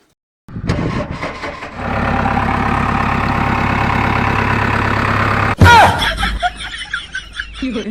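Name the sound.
tractor engine started and idling after repair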